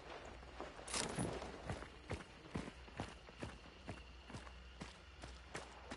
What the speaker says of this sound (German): Hier auf der linken Seite höre ich noch Schritte.